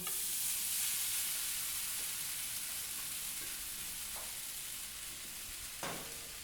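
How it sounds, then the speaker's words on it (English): Tofu frying in hot oil in a pan, a loud steady sizzle that fills the whole clip, with a few brief stirring scrapes near the end. "So now our oil is up to heat. We're going to add in our tofu."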